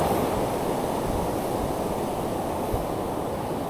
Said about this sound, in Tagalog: Lumakas ulit yung alon.